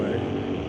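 A Chevrolet Nova drag racing car at an NHRA event pulls hard down the track, a loud, steady engine roar filling the short moment with no pause.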